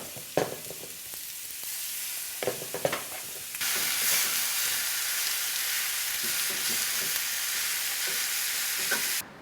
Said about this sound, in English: Then take your refrigerated venison and cook it all up.